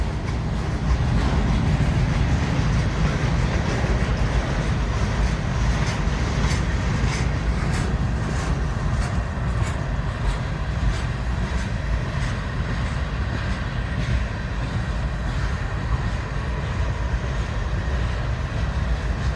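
A very long freight train rolls steadily past at Wartrace, Tennessee, a continuous loud rumble of railcars and wheels on track holding for the whole stretch with no pause.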